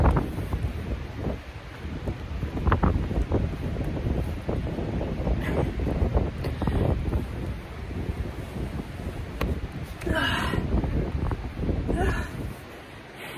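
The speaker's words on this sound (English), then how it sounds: "So it's obviously very windy." Strong gusty wind buffets the microphone on a Great Lake shore after a surf session, a constant loud roar with low rumbling bursts and flutter, steady throughout with brief sharper gust peaks near the end; no clear speech.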